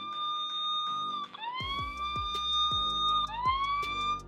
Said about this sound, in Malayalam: ഇത്തരത്തിൽ സൈറൻ കേൾപ്പിച്ച് മറ്റുള്ളവരെ അലേർട്ട് ചെയ്യാനും